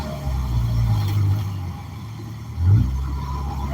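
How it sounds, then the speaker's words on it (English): A small 5-speed manual Nissan truck driving, a loud steady low engine and road rumble inside the cab, with a brief rise in engine pitch near the end. "this is a little 5-speed standard ship Nissan truck. A little noisy truck. It squeaks, it rattles, it bumps."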